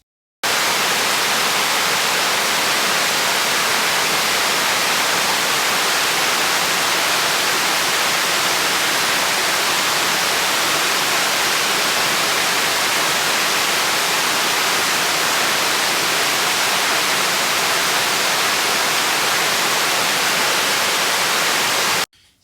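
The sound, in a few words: falling water of a stream waterfall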